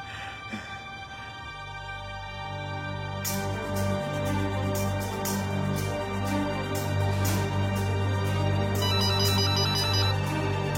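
A mobile phone ringtone plays steadily for about ten seconds, a rich melodic tone that grows fuller and brighter partway through, moderately loud with no talk over it.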